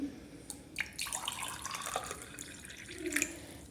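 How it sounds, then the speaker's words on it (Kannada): Water pours into a glass as a soft, continuous splashing trickle, close and fairly quiet, with small gurgles and no talking. "ಈ ಗ್ಲಾಸ್ ತುಂಬ ನೀರನ್ನು ಹಾಕ್ಕೊಳ್ಳಿ"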